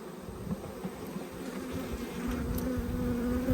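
Honeybees buzzing during a hive inspection in Australia, a dense steady drone of many insects close by that swells slightly over a few seconds, with no talking.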